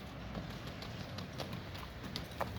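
Hooves of a young horse being ridden clip-clop at a walking pace, the quiet, even steps faint against light outdoor ambience.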